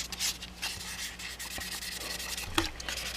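Hand sanding of a metal block-off plate to remove scratches before buffing, a close, steady scratchy rubbing in back-and-forth strokes with one small click near the end.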